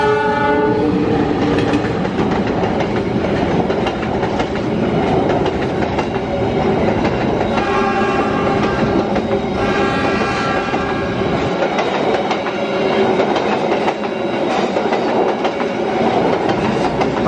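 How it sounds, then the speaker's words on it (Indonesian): Lodaya passenger train rolling past a level crossing, heard close and loud throughout, with a long horn blast near the start, steady wheel and carriage rumble, and rhythmic clickety-clack over the rails. "Kereta Lodaya sudah lewat"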